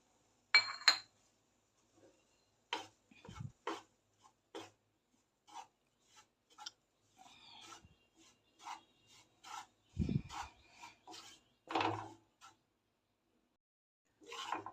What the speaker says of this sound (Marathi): आपण एक वाटी बेसन घेतलेलं आहे ते यामध्ये भाजून घेऊया खमंग भाजून घेऊया